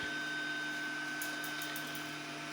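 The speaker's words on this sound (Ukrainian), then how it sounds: "запустив ще тут написано прочистка сопла принтера" Ender 3 V3 CoreXZ 3D printer running its nozzle cleaning routine, a steady mechanical whine with faint high ticks partway through, heard alone with no talk.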